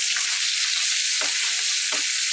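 Loud, steady sizzling as fish is added to frying onions in a pan for a fish curry with tomato and potato, with a few brief stirring scrapes breaking through the hiss.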